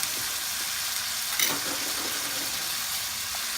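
Young corn sizzles in a frying pan with soy sauce, producing a steady, close hiss of frying with a brief louder burst of crackle midway and no talking.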